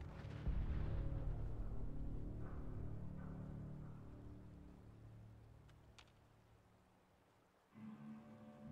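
A Fallout 4 explosion bursts loudly, then its deep rumble slowly fades over several seconds before another low boom rises near the end; no voices.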